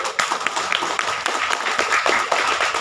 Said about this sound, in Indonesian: luar biasa tepuk tangan untuk panitia